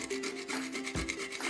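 Dry coconut rasps against a hand grater in a home kitchen while traditional Jamaican chocolate tea is made, a close, repeated scraping stroke in a steady rhythm with no talking.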